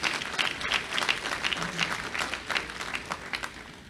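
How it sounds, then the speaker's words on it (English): Audience applause at a college student commons dedication ceremony, a steady wash of many hands clapping at moderate distance, continuous throughout without talk. "let's give him a round of applause"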